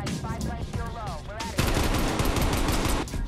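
Rapid automatic video game gunfire bursts in Black Ops Cold War multiplayer, a loud, close, dense rattle that takes over after a short stretch of speech.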